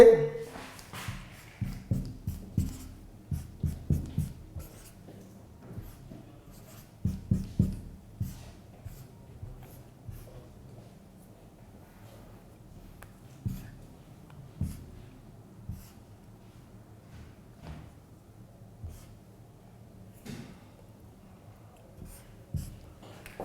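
Chemistry formula B3N3H6 (inorganic benzene) being written out during a P-block elements lesson; faint scratchy strokes arrive in short irregular bursts, denser early on, against a quiet room.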